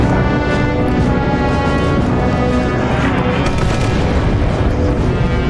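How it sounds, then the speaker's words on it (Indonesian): A tank blows up in the video game Sniper Elite, giving a loud, sustained rumbling explosion with dense crackling debris that fills the whole stretch without letting up. "Oh meledak sendiri tuh tank."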